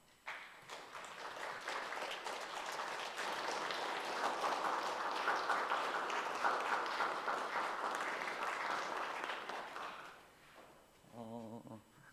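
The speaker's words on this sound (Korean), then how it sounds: "큰 박수 해주시기 바랍니다." A church congregation applauds during a Sunday service, a dense, steady wash of clapping that swells and holds for several seconds before fading, followed by a brief spoken voice.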